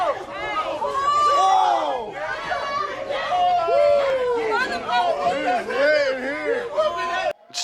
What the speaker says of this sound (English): It's just a full crowd of people going World Star.